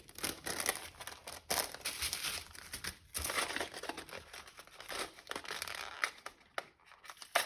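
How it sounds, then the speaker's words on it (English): Paper envelope torn and pulled open by hand during a craft box unboxing, a steady run of close crinkling and ripping rustles with brief pauses, no talking. "I can never open these envelopes."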